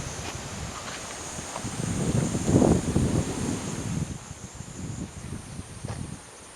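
Steady wind blowing outdoors by the river in Kyoto, a broad buffeting rush against the microphone that swells around the middle and eases off, with no voices.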